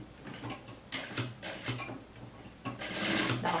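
Sewing machine stitching a small bust dart, a short series of quick mechanical bursts of rapid ticking needle motion separated by brief pauses, fairly quiet and close.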